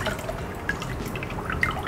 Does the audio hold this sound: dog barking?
no